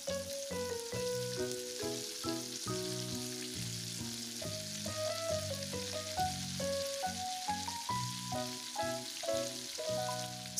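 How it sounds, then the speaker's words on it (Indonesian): Blended peanuts frying in hot oil give off a faint, steady sizzle and hiss, nearly buried under louder background music that plays throughout. "saya akan menggoreng kacang yang sudah saya blender tadi"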